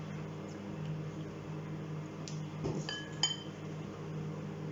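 A spoon clinks against a bowl while a spoonful of oil goes in with sugar and milk for a homemade recipe, a few light glassy taps near the middle over steady low background hum.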